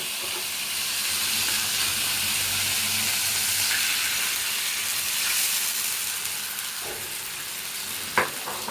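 Boiled raw papaya dropped into hot oil, a loud, close, continuous sizzle that eases slightly toward the end, with a couple of brief utensil knocks and no speech.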